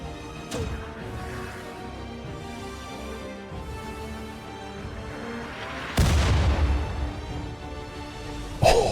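Colonists firing a volley of guns in the video game RimWorld, with a sharp shot near the start, steady rumbling booms under a low drone, then a heavy blast midway and another sharp crack at the end.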